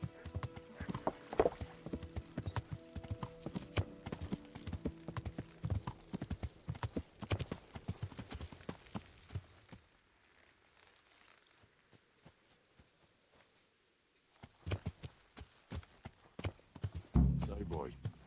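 Horse hooves clip-clop at a steady walking pace in Kingdom Come: Deliverance, soft and close, with a calm stretch midway and a voice talking over them.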